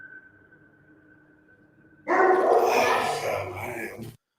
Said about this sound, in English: I know it's definitely a dog bark.